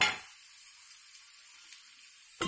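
Grated raw mango sizzling in hot oil in a pan with ingredients for a traditional fish gravy, a steady soft hiss that carries on alone and fairly quietly, with a brief clatter at the start and end.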